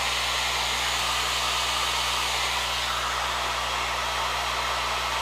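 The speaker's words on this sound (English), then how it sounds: "Just going to get my dryer out here" A hair dryer runs on its low setting in a model-building workshop, giving a steady, continuous whooshing hum that stays even and close for the whole stretch, with no voices.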